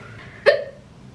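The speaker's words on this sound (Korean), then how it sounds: "갑자기 딸꾹질이 나와요." A single sharp hiccup from a person at home, sudden and fairly loud against a quiet room background, fading within a fraction of a second.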